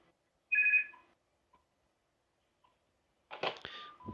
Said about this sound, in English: someone is now ringing me on the house phone